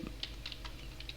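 Quick, faint key presses on a computer keyboard, about eight light clicks in an uneven rhythm over a low background hum.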